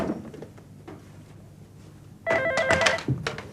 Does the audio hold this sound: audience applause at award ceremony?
no